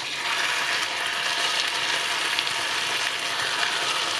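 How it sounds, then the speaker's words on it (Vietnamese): Steady, dense sizzling of chicken thighs frying skin-side down in hot butter, a continuous crackling hiss that stays loud throughout with no talking. "mình sẽ chiên gà trong bơ"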